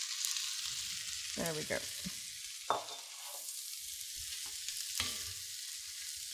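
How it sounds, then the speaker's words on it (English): Wild mushrooms frying in butter in a pan, a constant close sizzle broken by a few scraping stirs, while a voice speaks briefly. "Add the last of the mushrooms to the pan."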